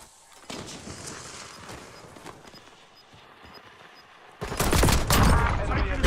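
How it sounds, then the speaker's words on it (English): Gunfire in a battle royale video game: a few scattered shots and rattles early on, then a loud, dense burst of rapid fire toward the end, with no talking over it. "Is that guy just shooting a SMG at me?"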